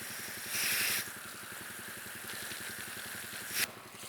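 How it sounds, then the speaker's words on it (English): Water pump engine on a wildfire mobile attack unit idling close by, a steady low rhythmic chugging with a faint rattle throughout and brief bursts of hiss. "With the pump at idle."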